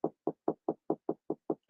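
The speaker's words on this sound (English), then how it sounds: "I heard a knocking." Nine even, hollow knocks thump in a steady quick rhythm, close and distinct, ending with a brief brighter click.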